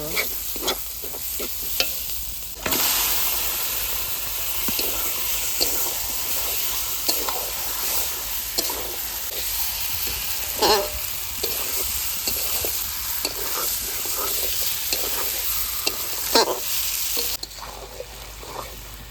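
Pieces of stingray fish frying in hot oil in a home kitchen, a continuous sizzle broken by repeated scraping and stirring knocks of a spatula against the pan.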